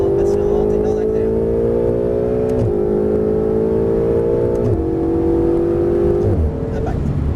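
A Ferrari 488 on the Circuit du Castellet accelerates through a steadily rising engine note, broken by brief dips at each upshift. The engine sounds loud and close, heard from inside the car, and a voice talks over it.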